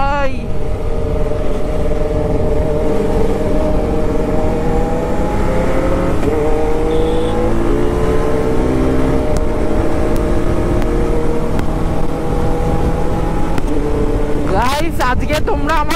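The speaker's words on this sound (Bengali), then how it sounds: "এত লাউড বাইক ভাই, এত লাউড বাইক যে আমার কথা তোমরা শুনতে না পাওয়াটাই স্বাভাবিক" Loud, close engine roar from a Kawasaki ZX10R superbike in motion, pitch climbing and dropping through repeated gear changes, with constant wind rush over the microphone.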